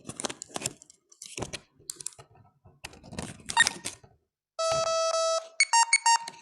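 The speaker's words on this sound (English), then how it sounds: "You hear beep, beep, beep, 3 beeps" A talking product emits an electronic beep pattern after several seconds of crinkling, tearing packaging handling; the tones come in a quick, clear series near the end.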